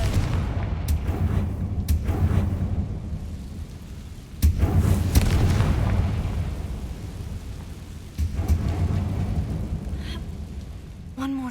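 Confringo spell explosions in the video game Hogwarts Legacy: several deep booming blasts spaced a few seconds apart, each with a rumbling tail, over a low ambient background.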